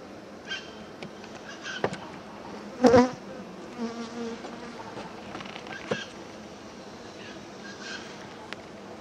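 Honeybees on a hive frame during a search for an old queen, buzzing close by as a soft, continuous hum with louder individual buzzes rising and fading, one near burst standing out, and faint voices now and then.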